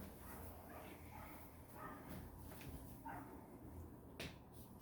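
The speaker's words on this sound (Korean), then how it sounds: "개 짖는 소리 좀 안 나게 만드나?" A dog barks faintly and intermittently in the background, a few short yips scattered through an otherwise quiet room during a lesson.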